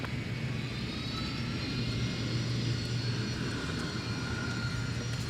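An airliner arriving at MSP airport gives a loud, steady jet engine roar that stays constant throughout, with a low hum underneath.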